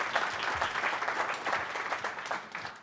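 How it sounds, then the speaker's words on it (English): A live audience at a product strategy talk breaks into a round of applause, a dense, energetic crowd clapping heard clearly and close, swelling and then tapering slightly toward the end with no speech over it. "So please give him a round of applause."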